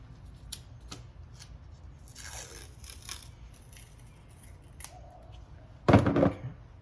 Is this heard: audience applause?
no